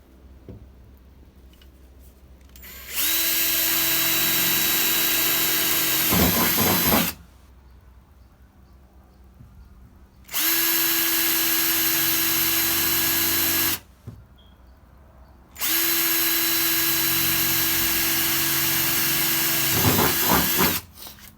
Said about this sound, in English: grab my drill with my drill bits, and I'll go ahead and start drilling away